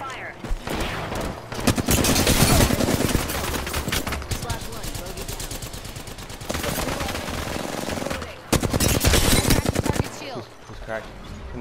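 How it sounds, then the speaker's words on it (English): Rapid automatic gunfire in the battle royale game Apex Legends, loud dense bursts of shots with brief gaps, fired close up over game sound and voices. "Opening fire on our prey."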